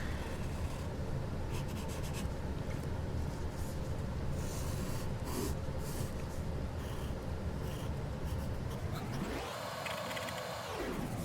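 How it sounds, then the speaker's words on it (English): Steady scratchy rubbing of a pencil tracing across paper, continuous and close, with a brief whirring noise near the end. "I'm just going to trace with my pencil"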